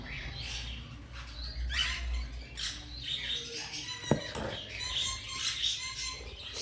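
Lutino Gouldian finches in silver hood, a large breeder pair kept at a pet bird market, give soft, high chirps and squeaky calls in scattered bursts. A faint rustle and a single sharp tap come in partway.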